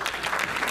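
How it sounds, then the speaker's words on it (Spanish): A church congregation at a wedding claps together, a brief, dense, steady burst of many hands heard close with no talk over it. "Fuerte las palmas al Señor."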